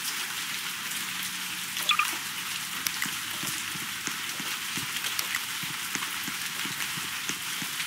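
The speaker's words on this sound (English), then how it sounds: "Raining." Rain falls in a Roblox Backrooms level 22 game world, a steady hiss of drops on hard surfaces with scattered sharper drips and taps throughout, and no talking.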